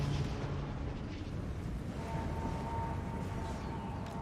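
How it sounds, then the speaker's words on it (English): Dragon breath attacks in Total War: Warhammer 2 strike goblin rock lobbers, making a steady, dense roar of fiery rumbling explosions that keeps up without a break. "just put the breath attacks down onto these Goblin Rock Lobbers"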